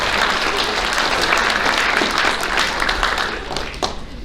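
Loud, dense audience applause at a high school athletic banquet honoring the cheerleading team, continuous close clapping from many people that eases slightly at the end.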